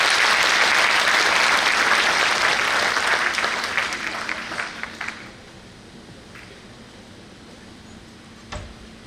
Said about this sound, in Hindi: तो शरबजीत के लिए ताली बजा सकते हो